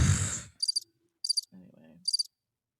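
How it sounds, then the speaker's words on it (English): Three short bursts of insect-like cricket chirps drop in as a comedic cue after a burst of noise, with a faint low hum between them and near silence at the end. "Little crickets."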